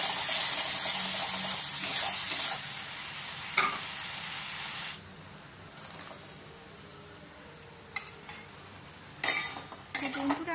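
Okra (bhindi) frying with spice paste in a pan for a Gujarati dahi bhindi, giving a steady loud sizzle with stirring scrapes for the first few seconds that then drops to a fainter hiss broken by occasional clinks.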